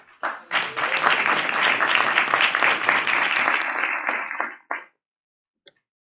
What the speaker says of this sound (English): let's give a big round of applause for our host, Council Member Amy Merrir